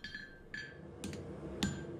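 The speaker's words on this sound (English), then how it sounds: "Using the straight peen and the edge of the anvil together to kind of forge that in here." Hammer strikes with a straight peen on a steel knife blank at the edge of an anvil, shaping a finger choil; a few sharp, ringing metallic blows spaced apart against a steady background hum.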